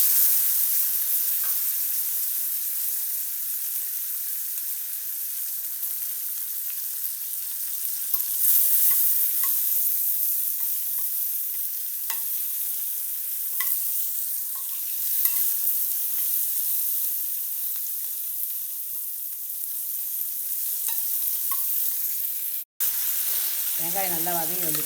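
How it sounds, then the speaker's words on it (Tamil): Chopped onion sautés in a pan with a constant close sizzle and frequent scraping stirs. The frying runs unbroken, with a brief cut near the end where a voice starts speaking. "வெங்காயம் நல்லா வதங்கி வந்துடுச்சு."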